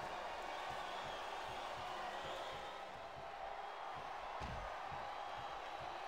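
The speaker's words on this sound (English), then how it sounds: "Wow, listen to that chant." A wrestling arena crowd in the video game Smackdown vs Raw 2008 chants in a rhythmic, repeating pattern during a Rey Mysterio versus MVP match, a steady roar with pulsing beats underneath and a brief louder burst near the end.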